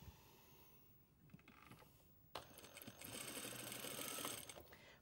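A sewing machine edge stitches a closed, overlocked seam with a single needle, about a millimetre from the edge. It starts quietly, then a louder, fast rhythmic whirring run kicks in halfway through and holds steady.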